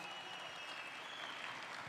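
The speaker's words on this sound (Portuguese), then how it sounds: "Por favor, salva de palmas para ele" Dense, steady applause from a crowd at the closing ceremony of Campus Party Brasília, a sustained wash of many hands clapping at once with no pauses and no talk over it.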